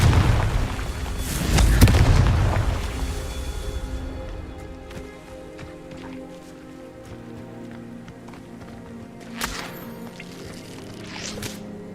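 A Confringo fire spell in Hogwarts Legacy bursts with a heavy, booming explosion in the first seconds, then trails into crackling debris, faint rumbles and scattered small impacts.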